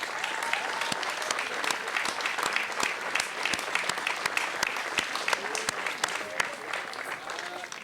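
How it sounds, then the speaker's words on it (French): A crowd claps at a fastball tournament in Saint-Léonard-d'Aston, a steady, lively round of applause with distinct individual claps standing out, mixed with some voices and ambient chatter. "Ça mérite une bonne main d'applaudissements."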